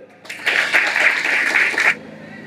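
A classroom audience of students bursts into loud, steady applause lasting about two seconds, dense clapping that cuts off abruptly.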